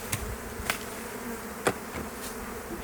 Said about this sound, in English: the bees have petered down to where they'll never build up